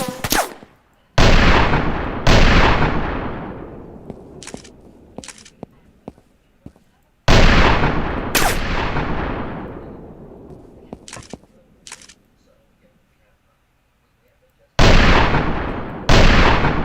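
Gunfire from a Model 1894 lever-action rifle in a shooting video game, with about five loud, sharp reports, each trailing into a long reverberant decay. Fainter clicks of cycling the action fall between the shots.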